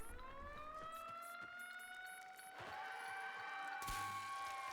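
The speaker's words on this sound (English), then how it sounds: "Do not mind the alarms." Alarm siren in the video game Warframe, a steady rising and sustained electronic wail at low volume with clicks and game effects scattered over it and no talking.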